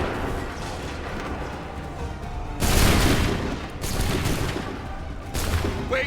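Musket volleys roll out in Assassin's Creed III Remastered, several dense bursts of gunfire crashing in one after another over a rumbling battlefield background.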